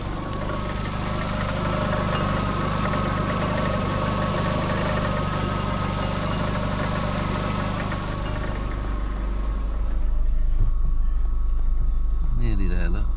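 Fiat Panda 100hp petrol engine idling steadily at close range with a constant low hum, the car having a noisy driveshaft and overheating trouble, while a voice talks over it.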